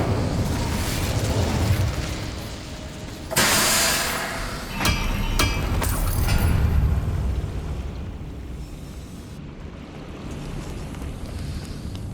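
A fire spell blast in the Hogwarts Legacy video game bursts out loud and abrupt, then trails into rumbling roar and crackling with a few sharp follow-up hits, fading over several seconds with no talking.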